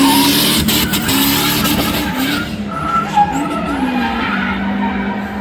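A BMW E30 drifts with loud, sustained tire squeal and skidding over its engine note. The screech wavers in pitch throughout and sounds close, with no talking.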